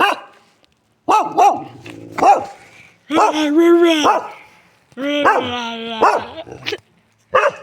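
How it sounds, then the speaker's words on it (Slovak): A dog barks close by in several sharp, loud bursts separated by short pauses. "Pozri, pes."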